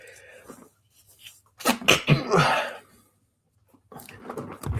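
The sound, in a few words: sneeze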